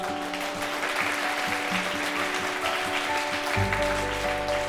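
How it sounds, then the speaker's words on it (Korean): People in a royal palace clap loudly after a tightrope performance, sounding as continuous crowd applause over steady tonal music. Near the end, a deep low swell joins the music. "공연을 마치자 궁에 있는 사람들이 엄청 크게 박수를 쳤어요."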